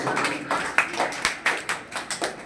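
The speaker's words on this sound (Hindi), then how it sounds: "5 और शाबाश, जोरदार तालियां हो जाएगी।" Students clapping in a coaching class, a short run of sharp, fairly loud handclaps at a brisk uneven rhythm, with no other talk heard.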